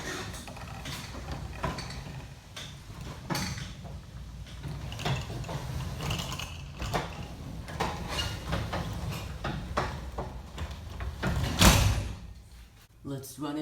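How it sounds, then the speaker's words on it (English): LiftMaster 8355-267 belt-drive garage door opener closing a door with weak springs: a long mechanical run with clacks and knocks, a louder thump near the end, and a voice talking throughout. "Let's close the door."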